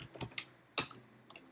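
Keys tap on a computer keyboard at a Linux terminal, a few sharp isolated clicks with gaps and one louder keystroke midway, close and quiet, with no voice.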